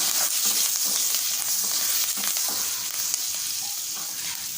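Spices and curry leaves crackle and sizzle steadily as they temper in hot oil, a dense continuous frying hiss up close, with no talking.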